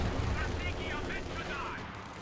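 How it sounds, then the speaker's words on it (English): An artillery barrage landing in the video game Company of Heroes 2, a dense rumble of blasts and rapid gunfire in a battle near Rzhev, loud and continuous under a voice commentating throughout. "Barrage landing almost on top of their own shock troops."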